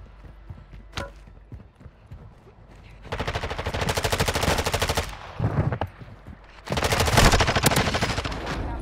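Video game gunfire rattles in two long, loud automatic bursts, separated and preceded by quieter shuffling and a single sharp shot.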